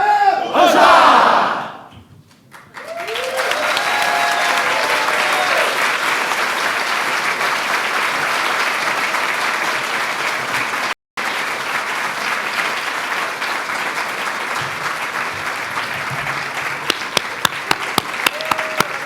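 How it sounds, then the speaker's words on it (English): Large crowd at a July 4th celebration at the National Archives breaks into loud, sustained applause and cheering after a shout, filling the space with a dense roar of clapping that continues steadily, with a brief break midway. "Another round of applause."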